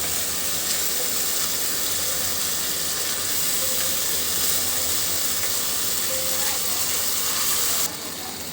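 Spice paste (masala) for a beef and potato curry sizzles and hisses steadily in a frying pan, a continuous broadband fry with no talking.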